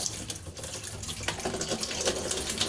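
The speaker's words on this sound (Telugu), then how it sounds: "మామూలుగా నీళ్ళు వస్తున్నాయి" A kitchen tap runs as flour is rinsed under it, giving a close, fluctuating splash and hiss with small bursts as hands move through the stream.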